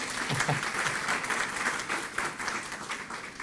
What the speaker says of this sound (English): Yes, you can clap again.